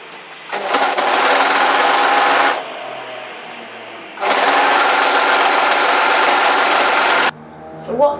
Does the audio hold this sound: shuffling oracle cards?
no